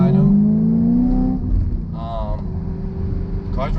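A supercharged 2014 Chevrolet Camaro SS with Whipple supercharger and long-tube headers rumbles with a deep, steady engine note and faint whine, close by, while someone talks over it throughout.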